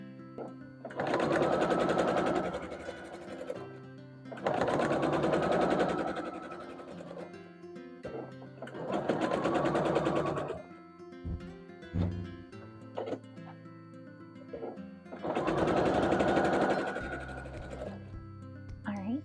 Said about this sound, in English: we're going to take these 2-inch squares and sew them together into a 4-patch